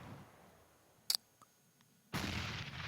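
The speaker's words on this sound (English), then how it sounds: "Nice nade on Invert, down to 63" Counter-Strike match on the Inferno map in a professional esports league: a short sharp burst of gunfire near the middle, a faint click after, then a loud grenade blast that keeps rumbling to the end.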